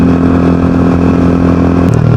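A motorcycle speeds along a main road near a resort in San Miguel, Bulacan, its loud, steady engine drone close by before the pitch drops sharply as it passes.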